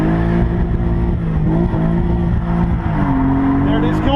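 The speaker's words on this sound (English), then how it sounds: "give it more gas so it peels out more and loses grip" A stock, naturally aspirated Nissan 300ZX Z32 drifting in donuts and figure eights, its engine revving hard and steady as the tires break loose and squeal, close and loud throughout.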